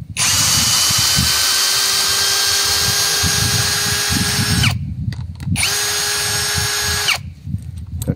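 A LUDYVI BL150 cordless drill drives a screw in first gear, whining loudly and steadily for several seconds, stopping briefly, then running again before cutting off, with no talking over it.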